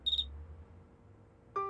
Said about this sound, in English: I like the sound of crickets, only not in the house.